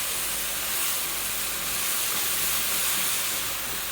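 Ginger frying in a pan for salmon fishcakes, a loud continuous hiss and sizzle that holds steady throughout with no voices over it.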